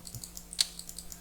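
Someone types quickly on a computer keyboard, with a run of light, evenly spaced key clicks and one sharper, louder keystroke in the middle, close and crisp against a faint electrical hum, with no speech.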